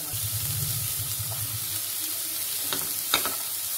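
Cabbage for a spring roll filling stir-fries in a hot pan, a steady close sizzle with a few scraping stir strokes and a sharp clink near the end; no one speaks.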